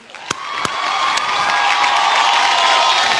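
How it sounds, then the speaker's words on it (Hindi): Studio audience at an awards show taping in Mumbai's Prime Focus studio cheering and clapping, a few sharp claps at first, then swelling into a loud sustained roar of cheers and whoops. "जोरदार तालियां।"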